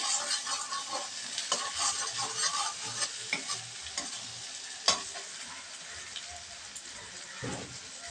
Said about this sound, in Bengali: এবার মশলাটাকে কষিয়ে নিয়ে মশলা কষানো হয়ে গেছে।